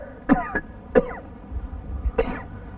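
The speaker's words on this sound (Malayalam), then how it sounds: "നിന്റെ ചുമയൊന്ന് നിർത്ത്" A man coughs in three sharp, close bursts spread over a few seconds, with faint background noise and no speech.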